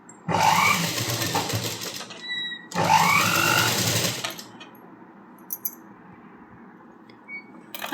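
A sewing machine stitching a blouse hook strip runs in two loud, close bursts of about two and three seconds each, then stops, leaving quiet room tone with a few faint clicks.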